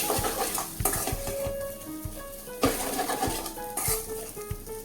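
A vegetable curry with white sesame seeds and grated coconut, part of a fasting thali, is stirred in a pan. Soft, repeated scrapes and taps sound over a low sizzle.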